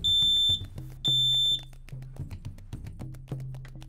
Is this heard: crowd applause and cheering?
no